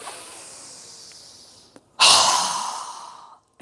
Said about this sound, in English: exhale with a strong breath through our mouth with our mouth open wide